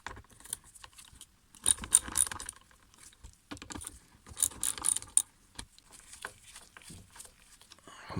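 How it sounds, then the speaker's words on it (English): Ratchet working on the casing bolts of a Makita DUH601Z battery hedge trimmer, heard as clusters of quick metallic clicks and clatter in bursts, close up and moderately quiet, with no talking. "I'm going to need a ratchet."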